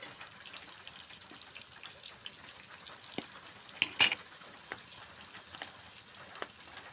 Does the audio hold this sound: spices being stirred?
yes